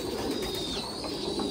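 A fantail pigeon gives soft, low, throaty coos close by, a rolling murmur repeating across the short stretch with faint background noise and no talking.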